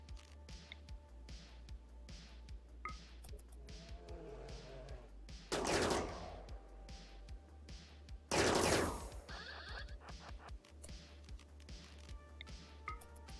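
Gunfire in the RimWorld video game comes as two sharp, loud volleys of rapid shots a few seconds apart, standing out over quieter scattered game clicks and taps.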